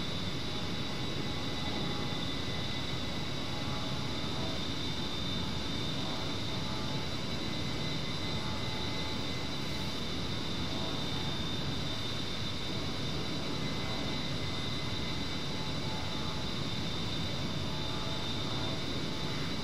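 Steady, loud A-10C Warthog jet engine drone in the DCS flight simulator, a continuous broadband roar with a high whine held throughout, no voices over it.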